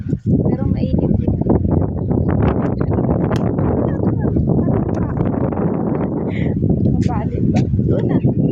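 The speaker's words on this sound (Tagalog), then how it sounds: "Malakas yung hangin kaya yun" Strong outdoor wind buffets the microphone in heavy, continuous rumbling gusts, with a person talking throughout.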